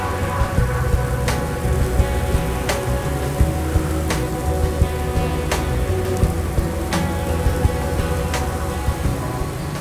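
Steady, dense rain pours onto a hard surface, loud and close, with a few sharp, evenly spaced drop impacts cutting through the continuous hiss; no voices.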